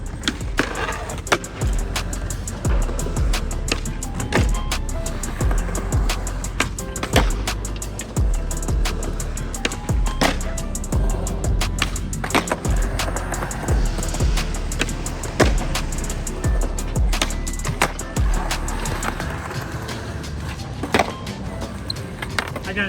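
A Powell Peralta Flight Deck popsicle skateboard rolling with a continuous wheel rumble, punctuated by repeated sharp pops, tail slaps and landing clacks, loud and close.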